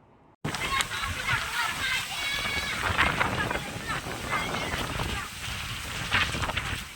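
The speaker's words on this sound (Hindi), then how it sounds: "बिजली के कड़ाकों के साथ काले बादल आसमान में छा गए और बारिश टूट पड़ी।" Heavy rain pours down during a storm with dark clouds and lightning, a dense, loud wash of splashing water, while a voice talks over it.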